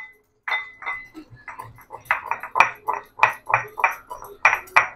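Spices being pounded in a stone mortar and pestle for a traditional Malvani sweet. Steady, ringing strikes come one after another, about a dozen of them, growing quicker and sharper toward the end, close up and with no voices.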